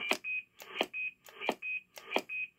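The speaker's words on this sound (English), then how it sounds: "Roger beep is right here if you want to run that." The roger beep on a K-po DX5000+ CB radio sounds four times in a steady rhythm, each a short burst of key-up noise followed by a clear, close electronic tone.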